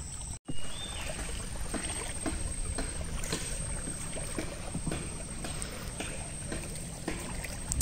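A steady motor drone with rushing water wash as a boat travels through Bangladeshi villages, broken by occasional splashing slaps against the hull; no voices.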